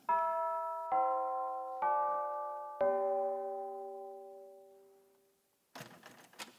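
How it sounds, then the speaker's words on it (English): Doorbell chimes ring out indoors, four bright tones struck one after another, each ringing on and fading slowly, the last decaying to near silence before a short rustling noise. "We ditched the car and punched the chimes."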